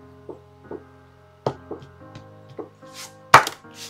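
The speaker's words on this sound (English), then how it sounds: "That one I just need to throw a few times on the table" Several sharp wooden knocks, irregularly spaced and fairly close, as a fly-tying item with a wooden spoon still stuck in it is banged on a wooden table, with a soft tonal hum underneath.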